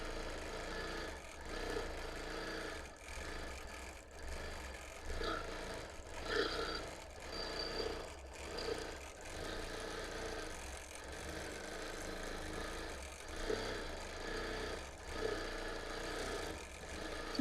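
A quilting sewing machine with its stitch regulator on, working slowly across bulky seam areas of a friendship quilt with a piano key border, gives a quiet, steady mechanical whir with a faint repeating stitch rhythm throughout.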